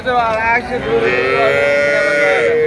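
Cows at a cattle market give loud, close, drawn-out moos that fill the whole moment, one call following straight after another.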